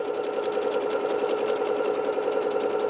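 A Bernette B-77 sewing machine stitches continuously from a stitch library pattern, giving a loud, close, even rapid mechanical whir with a steady pulsing rhythm throughout.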